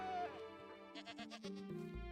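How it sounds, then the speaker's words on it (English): Goat bleating in the Minecraft video game, several wavering bleats in quick succession over game background sound, fairly close and clear. "Come on, goat."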